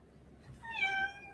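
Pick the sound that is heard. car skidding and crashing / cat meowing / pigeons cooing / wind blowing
cat meowing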